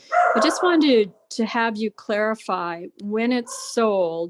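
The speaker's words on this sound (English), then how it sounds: "I'm sorry you can hear my dog barking," A dog barks in the background during a phone or office-style conversation, its short yips and barks mixed under a person who speaks continuously throughout.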